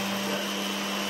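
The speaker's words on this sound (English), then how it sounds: "Oh, this is a different kind of blender." A kitchen blender runs steadily at close range, a continuous whirring motor drone with a strong low hum and no voices over it.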